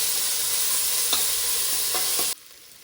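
About a spoonful of ginger garlic paste fries in a pan, a loud, dense sizzle with a few faint clicks of stirring, cutting off abruptly near the end.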